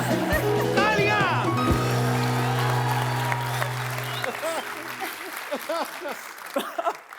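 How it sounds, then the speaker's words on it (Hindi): Audience applause at a Hindi comedy show, loud at first over music and speech, then thinning out as scattered voices and laughter carry on near the end. "तालियां।"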